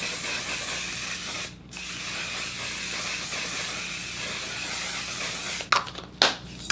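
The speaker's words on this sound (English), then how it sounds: "we will finish with my One Size setting spray and finish it off." One Size makeup setting spray mists out in a soft, steady hiss lasting several seconds, followed by a few short, sharper puffs near the end, quiet and close with no talking.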